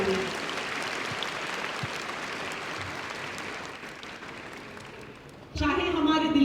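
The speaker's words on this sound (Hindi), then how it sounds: "जोरदार ताली" Audience in a hall applauding special-needs student awardees at a school awards ceremony, a dense steady wash of clapping that thins slightly before a louder burst of cheering and clapping at the end.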